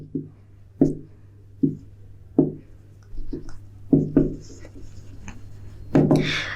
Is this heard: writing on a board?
yes